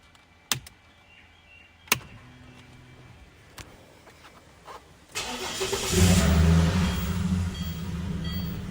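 A Ford Falcon BA/BF car engine starts after a few sharp clicks, then settles into a loud, steady running rumble with a rising rev near the end, close to the listener.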